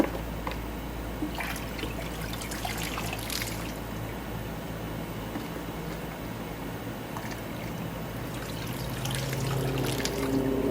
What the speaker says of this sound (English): I add a little salt to my wash water. Wash them real good.